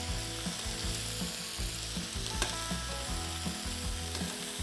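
Cooked onions sizzling in a pan with chicken juices as they are rubbed around, a loud, continuous close frying hiss with light scraping and spatter, no talking.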